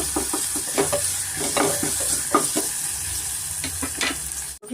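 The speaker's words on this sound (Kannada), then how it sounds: "ಅದನ್ನು ಅಷ್ಟೇ ಸ್ವಲ್ಪ ನಾವು ಎಣ್ಣೆಯಲ್ಲಿ ಫ್ರೈ ಮಾಡ್ಕೊಬೇಕಾಗುತ್ತೆ" Ginger garlic paste frying in hot oil, a steady close sizzle with scraping stirs from a spoon against the pan, ending in a sudden clunk.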